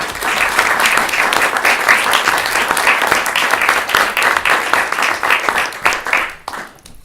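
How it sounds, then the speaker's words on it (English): An audience at a panel discussion applauds the guests with sustained, dense clapping that holds steady for several seconds before tapering off and fading out at the end. "Please give them a round of applause."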